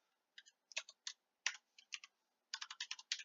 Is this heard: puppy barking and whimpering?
no